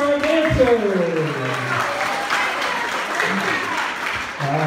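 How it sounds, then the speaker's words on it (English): An audience at a stage hypnosis show at Slippery Rock Campground applauds the dancers with loud, sustained clapping that fills the whole stretch, and a voice speaks over it at the start. "How about a big round of applause for our dancers?"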